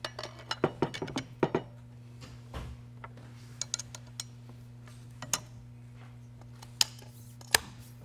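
A new rifle barrel is fitted onto an old frame, making scattered sharp metallic clicks and small clinks, some in quick clusters and others isolated, close and fairly quiet over a low steady hum.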